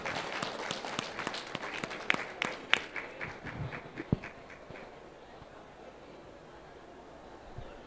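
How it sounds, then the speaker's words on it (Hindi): An audience at a national Ayush health conference and expo applauds a speaker with loud, sharp claps that thin out over several seconds and fade into room noise. "एक बार जोरदार तालियां सर के लिए हो जाए।"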